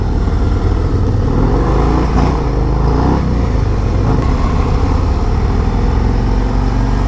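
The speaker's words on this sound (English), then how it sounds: "Some lane splitting in California here on a 2023 CVO Road Glide" A 2023 Harley-Davidson CVO Road Glide lane splitting in California traffic, its engine droning steadily and loud under heavy wind rush, with no talk heard.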